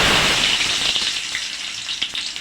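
Red chillies and chopped onion frying in hot oil for a greens stir-fry, giving a loud, steady sizzle with crackling pops close up.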